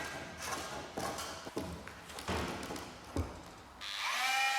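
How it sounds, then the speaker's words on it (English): A hand planer works a wooden sailboat frame with uneven bursts of cutting and rough scraping, then the motor spins up into a steady, louder whine near the end. "Then it was time to try the hand planer, which was pretty difficult as well."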